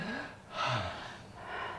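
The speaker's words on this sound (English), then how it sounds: "That breathing." Heavy breathing from a film scene comes through as a couple of audible breaths, one a sharp gasping inhale, fairly close and not loud, with nobody talking.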